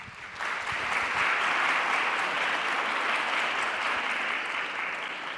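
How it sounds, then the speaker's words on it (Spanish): Conference attendees at a public debt presentation forum break into sustained applause for the panel of speakers, rising quickly and holding an even, moderately soft wash of clapping to the end. "pido para ellos un aplauso también."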